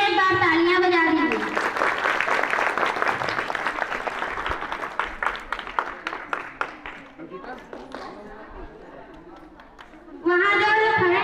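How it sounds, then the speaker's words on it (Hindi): A crowd at an Independence Day and Krishna Janmashtami celebration applauds small children dressed as Radha and Krishna. Dense clapping swells after a spoken announcement, then thins into scattered individual claps before a voice resumes. "उनके लिए एक बार तालियां बजा दीजिए"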